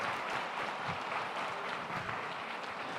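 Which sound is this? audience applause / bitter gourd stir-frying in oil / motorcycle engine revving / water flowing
audience applause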